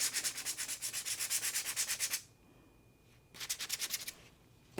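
Rhythmic scraping strokes of sanding a UV resin glitter pen, a fast back-and-forth burst for about two seconds, a pause, then another shorter run, close and clear with no talking.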